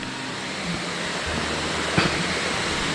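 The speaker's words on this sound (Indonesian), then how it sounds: "Ini lor, sampai di air terjun." A waterfall on Mount Gede Pangrango, reached via the Cibodas trail, roars with a steady, dense rush of falling water that fills the whole scene without pause.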